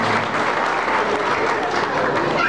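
Audience applauding at a musical performance, a dense, steady clapping that fills the whole stretch at close range with no pause.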